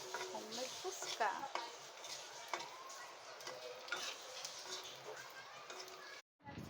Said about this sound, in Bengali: এই ভেজে নিচ্ছে আমাদের হোমমেড ফুচকা।